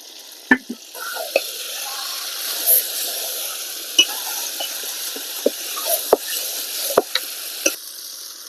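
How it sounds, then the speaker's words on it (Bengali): Country chicken sautéed with spices in a pan gives a low sizzle under repeated sharp spatula knocks and scrapes against the pan at an uneven pace, close and clear without voices. "মশলা দেওয়ার পরে মাংসটা আমি এখানে প্রায় 10 মিনিট কষিয়ে নিয়েছি"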